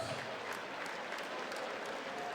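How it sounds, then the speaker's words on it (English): A boxing crowd gives both fighters steady applause after a four-round bout, an even, sustained patter of many hands heard at a moderate distance. "can we please have a big round of applause for both of our"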